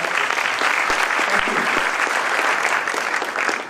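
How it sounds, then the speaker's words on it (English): A short burst of steady applause from an audience at a Toastmasters event, a dense wash of clapping that holds evenly, then begins to fade. "he deserves a round of applause"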